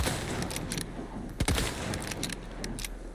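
Rifle shots in Resident Evil 4 Remake fire as a few sharp cracks, one standing out loudly midway, over a dense, steady bed of game ambience and noise.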